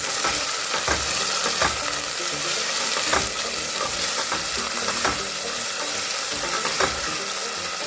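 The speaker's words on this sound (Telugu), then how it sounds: "ఉల్లిపాయలు సాటే చేసుకుందాము" Sliced onions sauté in a hot pan for goat head curry, giving a steady, close sizzle and crackle broken by occasional stirring scrapes, with no talking.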